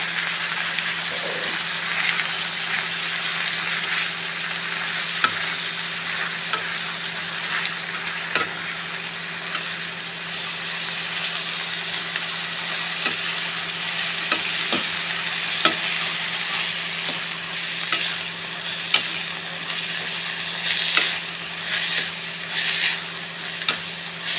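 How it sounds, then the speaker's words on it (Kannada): Chopped dill leaves fry in oil with onions, a continuous close sizzle and crackle with occasional light stirring taps against the pan, steady throughout. "ಕಟ್ ಮಾಡಿ ಇಟ್ಟಿರೋಂತಹ ಸಬ್ಸಿಗೆ ಸೊಪ್ಪನ್ನ ಹಾಕಿ ಸೊ ಇದನ್ನ ಆಯಿಲಲ್ಲೇ ಚೆನ್ನಾಗಿ ಬಾಡಿಸ್ಕೋಬೇಕು"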